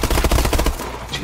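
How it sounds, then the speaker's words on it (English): Rapid automatic gunfire in Call of Duty: Advanced Warfare, a loud close burst of about eight quick shots lasting under a second, then fading. "I'm shooting with this gun"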